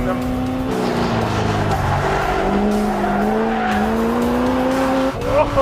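Car tires squeal in a long, sustained, wavering wail under hard driving, loud and close, with engine roar running underneath the whole time.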